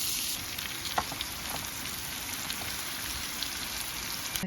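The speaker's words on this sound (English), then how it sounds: "I'm going to fry that off for a minute in some butter, salt and pepper, and add my steak." Steak with cauliflower and mushrooms frying in butter in a pan, giving a steady close hiss and sizzle with faint crackles throughout, no voices.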